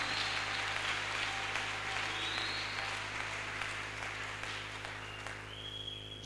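A church congregation claps and cheers during an intense prayer marathon, a broad sustained wash of applause filling the whole stretch, steady and fairly loud, with no clear speech over it.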